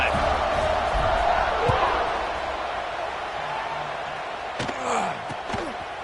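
A football stadium crowd cheering after a touchdown drive, a broad, steady roar filling the whole stretch with a few louder thumps and swells near the end, heard under a commentator's voice.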